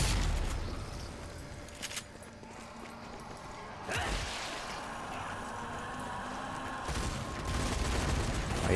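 Shotgun blasts in the zombie shooter Zombie Army 4: Dead War, several sharp, loud booms spread a few seconds apart over a rumbling game background.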